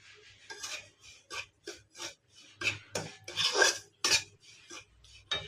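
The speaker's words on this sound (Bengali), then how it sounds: "কড়ার মধ্যে সুজিটা দিয়ে দেব, দিয়ে হালকা করে একটু ভেজে নেব" Dry semolina being roasted and stirred in a wok, a spatula scraping and rasping against the metal in short repeated strokes, close and fairly loud with brief pauses between strokes, no voices.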